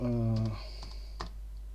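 Keys clatter on a computer keyboard during a software animation tutorial: a few sharp, separate keystrokes follow a brief voice.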